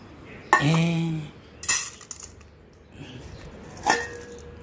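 Plates and dishes are handled, with a sharp ceramic clatter and ringing clink near the start, then lighter knocks and a second chiming clink, close by with quiet gaps between.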